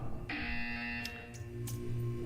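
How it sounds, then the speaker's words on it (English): A harsh, steady electronic buzzer in the video game Portal 2 drones loudly for over a second, with a few short clicks and blips around it. "When you hear the buzzer, stare at the art."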